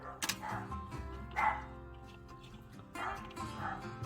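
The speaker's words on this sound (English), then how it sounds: "my dogs are going off in the background there" Dogs bark and yip in bursts somewhere in the background during beaded lava bracelet making, a few loud clusters separated by quieter stretches.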